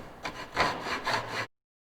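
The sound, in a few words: hand saw cutting a shallow kerf in wood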